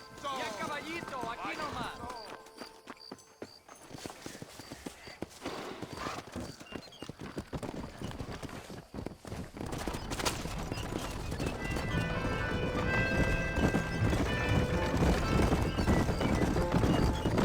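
Horse hooves clip-clop steadily as horses pull a wagon in the Mexican army convoy of Red Dead Redemption 2, with occasional whinnies, galloping louder toward the end under in-game dialogue.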